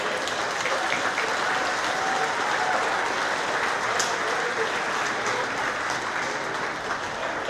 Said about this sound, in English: would you give both teams a big round of applause?